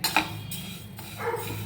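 Mixed ground spices for red chilli pickle roasting in a pan, a spoon scraping and clinking against the metal in a few short strokes over a low steady hum.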